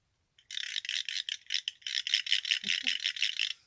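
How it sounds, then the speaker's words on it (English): A handheld noisemaker rattles in quick, uneven bursts of bright clattering, shaken repeatedly for a few seconds with short pauses between shakes. "A noise maker that's all glittery."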